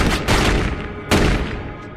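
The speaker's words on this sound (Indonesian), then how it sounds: "Di sini, mereka terpaksa menembak Jojo hingga tewas karena jamet ini melakukan perlawanan" Gunfire in a film scene: several loud, close shots with sharp booming cracks, a rapid burst at the start and another strong blast about a second later, each trailing off into a ringing decay.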